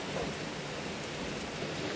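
Steady rain pours down on an outdoor hot spring at Ranong's Rommanee spa in Thailand, a dense, even hiss of drops filling the scene with no breaks or voices.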